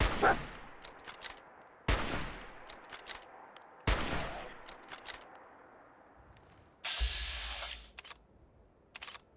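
Weapon fire in the video game Fallout 4 comes as a few spaced, loud cracking shots, each trailing off into a rumbling tail, with a harsher burst near the end over a low game ambience.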